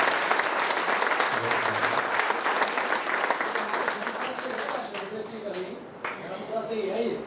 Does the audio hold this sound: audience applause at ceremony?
yes